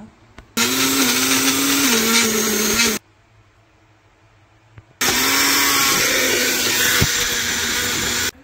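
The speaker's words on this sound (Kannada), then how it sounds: "ಈ ಥರ ತಣ್ಣಕ್ಕಾದ್ಮೇಲೆ ಗ್ರೈಂಡ್ ಮಾಡಬೇಕು. ಮಾಡ್ತಾಯಿದ್ದೀನಿ ಇವಾಗ." A mixer grinder runs in two loud bursts, grinding cooled cooked sweet pumpkin into paste; the motor whines steadily for about two and a half seconds, stops for two, then whirs again to the end.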